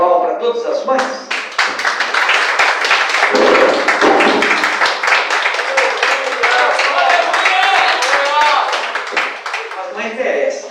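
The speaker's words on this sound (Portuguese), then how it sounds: "Vamos dar uma salva de palmas para todas as mães?" Congregation clapping for the mothers at a church service, steady dense claps filling the space for about ten seconds, with voices talking over them throughout.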